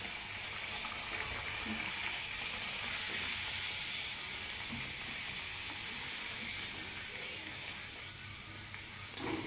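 Spinach puris deep-fry in hot oil, giving a constant soft hiss and bubbling sizzle that runs steadily close by without pause and with no voices.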